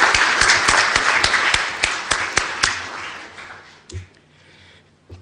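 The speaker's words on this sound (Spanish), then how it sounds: "pido un gran aplauso para este inspirador de sueños, por favor" Crowd applause at an awards ceremony, loud and dense, with sharp individual claps standing out, then fading over a few seconds to scattered claps and quiet.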